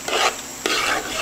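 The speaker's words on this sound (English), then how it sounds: "now we have the chicken frying in that curry" Chicken pieces frying in curry in a pot, with two bursts of scraping and sizzling as the mix is stirred, close and moderately loud.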